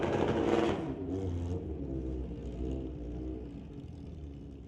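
A Kawasaki Ninja drag racing motorcycle at a street-legal drag night, heard as a fairly loud engine rumble that swells briefly and then settles into a steady, slightly distant drone.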